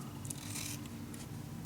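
Paper being cut with scissors during a handmade magic box craft, a few brisk snipping bursts at close range with no talk.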